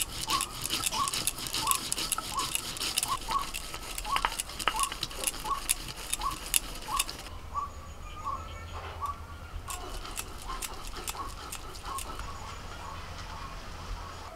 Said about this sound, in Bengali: দু রকম সর্ষে অল্প লবণ দিয়ে বেটে নিচ্ছি।